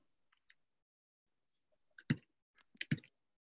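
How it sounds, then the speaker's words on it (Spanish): Keys pressed on a computer keyboard running Windows for a Control+V paste: a few faint isolated clicks, then two louder close clusters of key taps near the end. "So, en el teclado, en el Windows, control V, Victor."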